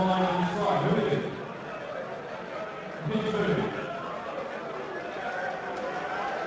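Murmuring crowd chatter fills a darts arena during a European Darts Open match, a steady hum of voices with a couple of louder swells, while a commentator talks over it.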